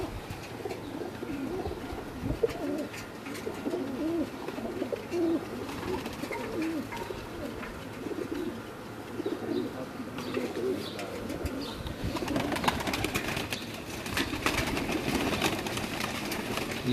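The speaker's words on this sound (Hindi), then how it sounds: "कुछ कबूतरों का शौक़ करवा रहे हैं" Pigeons coo in a loft at a dera in Gujrat, soft, repeated throaty calls overlapping continuously, with faint background noise and a busier stretch of rustling near the end.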